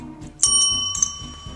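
A dog rings a bicycle-style bell, giving two bright metallic dings about half a second apart that ring on over low background rumble.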